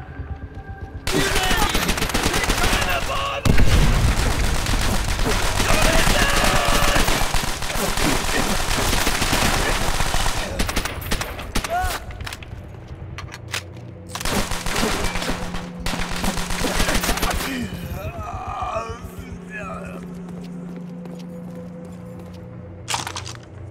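Heavy gunfire from Call of Duty WW1 rattles out as dense, loud machine-gun bursts and rifle cracks for most of the stretch, with shouted voices mixed in, before thinning to a quieter lull near the end.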